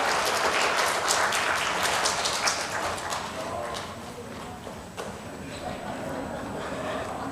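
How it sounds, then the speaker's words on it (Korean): A church congregation at a Teachers' Sunday worship service applauds in a thick, steady wash of clapping. It stays continuous and evenly loud for about seven seconds with no break. "네, 박수 주세요."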